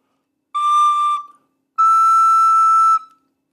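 Two sustained notes, E then A, on a breathy wind instrument, the first short and the second longer, each clean and steady with a brief pause between them.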